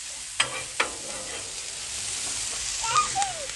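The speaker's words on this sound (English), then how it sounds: "we're going to put some onions right in that. And we'll saute these guys up a little bit here." Onions sauté in ghee on a Blackstone griddle, a steady soft sizzle with a couple of sharp spatula taps near the start and faint scraping later.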